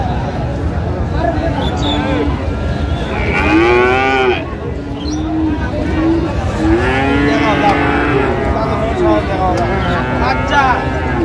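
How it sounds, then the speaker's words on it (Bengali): Friesian bull calves, about five to six months old, moo repeatedly at a busy cattle market, with long rising calls standing out over steady crowd chatter and people talking nearby. "ফ্রিজিয়ামের ষাঁড় বাচ্চা"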